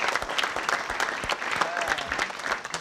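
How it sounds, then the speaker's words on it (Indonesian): A studio audience on a quiz show applauds Dian Nitami, a lively, close burst of many clapping hands with sharp individual claps and some crowd chatter underneath. "hadirin kita beri tepuk tangan untuk Dian Nitami."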